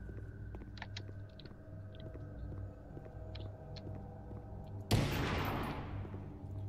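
A single loud magnum gunshot in a video game cracks out near the end, its burst ringing off and trailing away over a steady hum of game ambience and light clicks.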